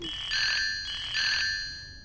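Mobile phone ringtone chiming in a repeated electronic melody, two bursts of the incoming-call tune back to back, close and steady with no talking.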